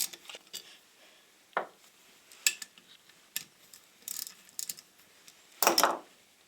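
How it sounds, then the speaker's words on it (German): Screws being taken out of a Passat 35i power steering pump, with faint scattered metallic clicks, ticks and small clinks of tools and fasteners at close range in a quiet workshop. "Jetzt können wir die Schrauben dann auch ganz entnehmen."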